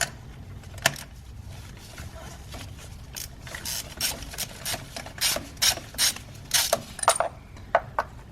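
A ratchet turning a 14mm socket clicks in quick bursts while loosening the spark plugs on a 2014-2018 Mazda 3, the sharp ratcheting growing denser and louder toward the end, close up, with no talking.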